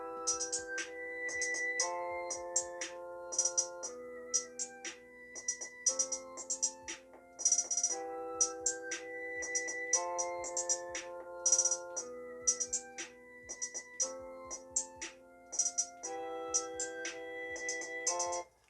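A melodic ringtone plays from the loudspeaker of a Galaxy A71 5G or Moto G Power phone, a repeating sequence of bright electronic tones in phrases, clear and close with brief gaps.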